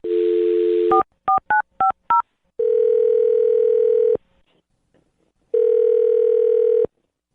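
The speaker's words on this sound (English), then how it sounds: "I'm gonna dial his phone number right now." A telephone dial tone, then a quick series of four touch-tone beeps as a number is dialed, followed by two long steady ringback tones with a pause between.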